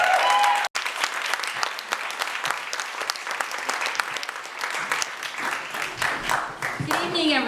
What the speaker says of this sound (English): Please give a warm round of applause for Jinhee Susi.